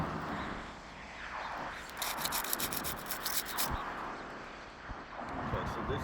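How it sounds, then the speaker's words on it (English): Roof shingles being scraped up for a repair; continuous close rubbing, scraping grind with a brief sharper rasping stretch, while a person talks over it. "First step, obviously, is scraping up the shingles around it to actually attempt to repair."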